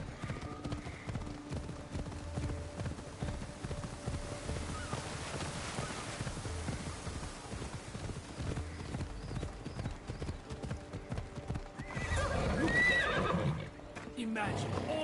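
Assassin's Creed Odyssey game audio: rhythmic hoofbeats clip-clop steadily on a hard surface with occasional horse whinnies, growing louder near the end, with some faint voices in the background.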